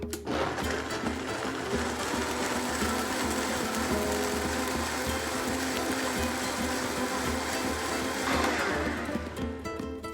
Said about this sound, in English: I'm going to blend this until it's completely smooth